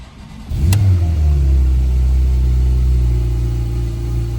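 A 2018 Porsche 991 Turbo fires up from a cold start on a chilly morning: a brief starter whir, then a loud, sustained engine roar that settles into a steady, raised idle, close by and with no talking.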